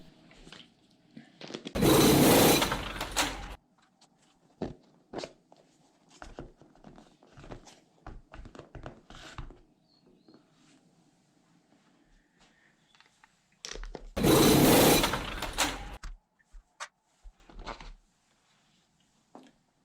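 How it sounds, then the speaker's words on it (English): Small parts of an Axial Bomber RC car's rear axle are handled as its wheels come off on both sides: scattered light clicks and taps, with two bursts of loud rough whirring, like a small power driver, between them. "I start by removing the wheels from both sides of the rear axle."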